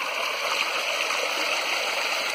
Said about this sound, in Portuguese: Cachoeira aí, ó. No meio da caatinga, ó.